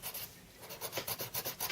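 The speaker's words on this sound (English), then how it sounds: "use the burnisher" A burnisher is rubbed hard over coloured pencil on paper in quick back-and-forth strokes, close and raspy, speeding into a rapid rhythmic scrubbing toward the end with no voices.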